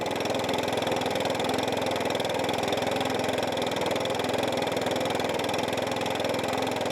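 A Stihl 4-Mix engine idles steadily during carburetor low-jet adjustment, a close, even, buzzing putter with a fast regular firing rhythm and no talking.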